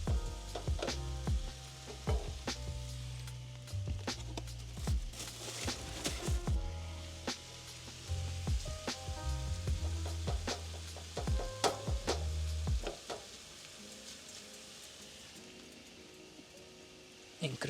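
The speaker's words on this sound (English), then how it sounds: "I will give that color, get it started cooking, and then I will mix it with the onions." Beef sizzles steadily in a pan with onions at an outdoor desert camp, a continuous crackling hiss broken by scraping and stirring clinks, fairly close and constant throughout.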